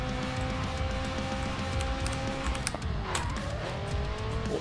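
A McLaren 570S drifts in a racing video game, a steady engine roar under sustained tire squeal with wavering pitch, brief skid bursts and revving near the end, fairly loud.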